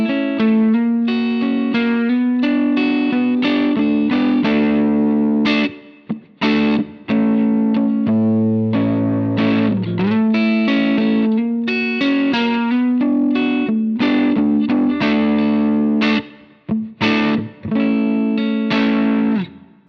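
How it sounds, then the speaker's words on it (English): Electric guitar through a Line 6 Helix modeling an Essex A15 (Vox AC15-style) amp with compressor, high and low cuts and reverb, playing a steady stream of chiming notes and chords with a lush, lightly saturated tail, loud and close, no voices. "Now we'll put the compressor and the high and low cuts in, and the reverb"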